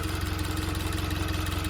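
A Subaru BRZ / Scion FR-S with manual transmission and an aftermarket Perrin oil cooler kit idles in a home garage, a steady, even low engine drone with a regular pulse and no voices.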